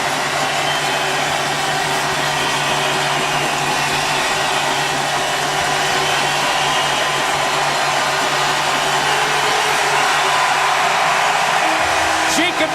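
Hockey fans roar in an arena at Westman Place in Brandon during the 2010 Memorial Cup round-robin game against Moncton. A dense, steady wall of crowd noise runs throughout and swells slightly near the end.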